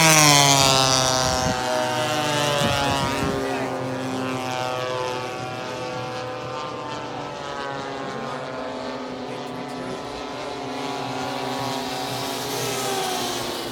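A Phoenix Tucano turboprop airplane passes by, its propeller drone loud at first then gradually sweeping in pitch as it moves past and away, with people talking over it.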